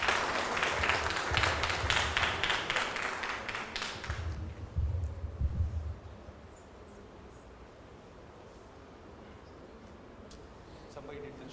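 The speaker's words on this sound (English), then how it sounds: "with a big round of applause" A conference audience in a university hall applauds for a keynote speaker at a chapter launch. Dense clapping fills the first four seconds, then thins to a few scattered claps and fades into quiet room noise.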